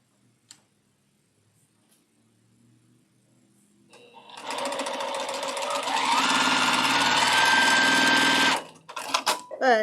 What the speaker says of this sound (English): Nope, just my sewing.